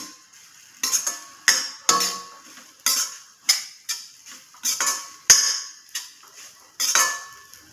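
Carrot rice being stirred in a pan after cooked rice is tipped in, with about a dozen sharp scrapes and clanks of a utensil against the pan in a steady rhythm, close and clear with no talking.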